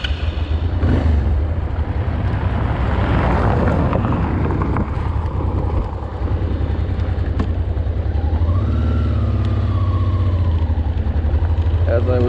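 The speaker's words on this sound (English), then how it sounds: "I really enjoy V-twin engines. They have a certain sound to them" A 270-degree V-twin motorcycle engine rumbles at idle close by, a loud, steady low throb that runs throughout, with someone speaking over it part of the time.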